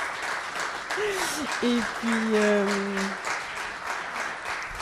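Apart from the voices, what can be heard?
audience applause for the four participants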